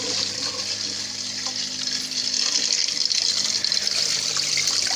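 Steady rushing water flows continuously through aquaponics pipes and fittings, growing a little louder partway through, with no voices.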